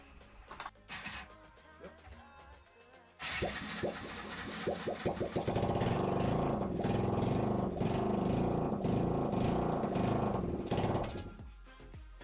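A Yamaha SR 125 single-cylinder motorcycle engine running on a little choke with no exhaust fitted, uneven at first, then starting up loud and steady and holding a close, rough idle that fades slightly at the end.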